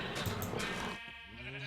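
A sheep bleats once in Minecraft's Agrarian Skies modpack, a short wavering game-sound baa near the end after a moment of busy ambient noise.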